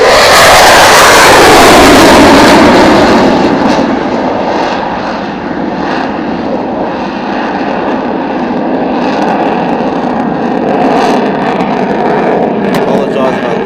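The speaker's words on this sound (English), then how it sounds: "Typhoon on the move. He's not mucking around." A Eurofighter Typhoon fighter jet takes off at the Farnborough Airshow, its engines giving a loud, sustained roar that swells at first, then settles into a steady, broad rumble heard at close range outdoors.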